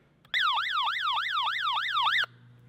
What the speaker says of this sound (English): It has an SOS siren